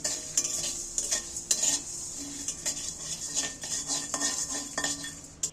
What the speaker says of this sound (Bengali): এইগুলো আমি ভালো করে একটু নাড়াচাড়া করে ভেজে নিচ্ছি